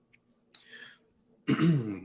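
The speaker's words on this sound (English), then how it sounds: "Let me clear my throat." A short, close throat clear and cough, then a louder raspy clearing of the throat, in an otherwise quiet room.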